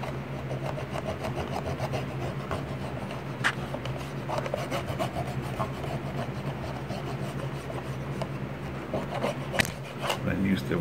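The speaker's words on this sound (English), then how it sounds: "Take another wet Q-tip, scrub the top," A wet cotton swab scrubs the contacts of an NES cartridge, giving a steady close scratchy rubbing with short strokes, under a low background hum and faint talk.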